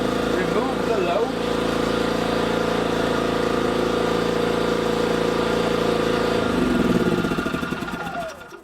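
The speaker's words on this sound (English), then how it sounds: "with the generator running, you can apply the load" A HY3200SEI 3200 W inverter generator runs at a steady close hum with a voice talking over it, then its engine note drops and winds down near the end.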